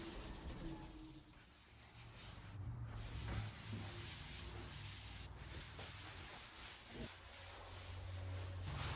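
Odie's Oil rubbed by hand onto a wooden dining table, a steady close rubbing and swishing hiss that runs continuously under a low background hum, with no voices.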